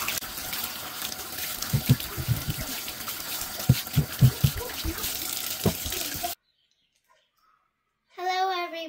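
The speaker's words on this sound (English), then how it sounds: "So I'm gonna do hot water." Hot water runs from a tap while a fish tank item is rinsed under it, a close, continuous splashing stream with some knocks and a voice talking over it, then it cuts off to near silence before more speech.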